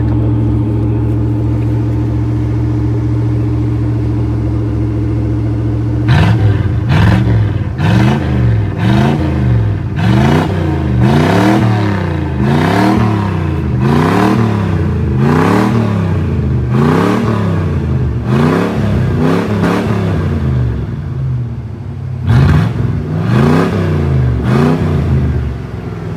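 A 1982 Pontiac Trans Am engine under restoration idles loudly up close, then is blipped in a long run of quick, rhythmic revs about once a second, with a brief pause before more revs.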